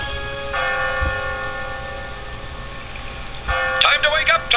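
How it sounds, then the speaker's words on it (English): A town clock bell tolls by a harbour, its ringing tone swelling in and sustaining with clear overtones, followed by a second brighter series of chimes, moderately loud and alone. "the town clock began to toll"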